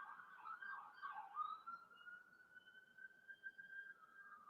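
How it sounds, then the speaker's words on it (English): An NYPD police car siren wails in the distance, its tone rising and falling faintly and steadily for several seconds. "That is definitely a police car."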